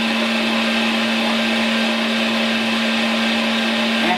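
A LEM Mighty Bite #8 electric meat grinder stuffing deer sausage runs with a steady, loud motor whine and hum throughout, close by, with no talking.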